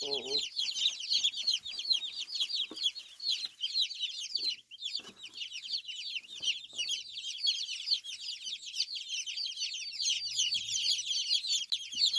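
Naked neck Turken chicks peep continuously in a dense, high chorus close by, with soft scattered pecking and scratching beneath, and no talk.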